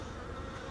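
Honey bees from a nucleus colony buzz steadily at close range during a hive inspection, a dense, even hum filling the short moment with no voices.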